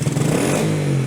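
Yamaha TTR110 dirt bike engine revved in a short, loud blip close by, the pitch rising briefly and then settling.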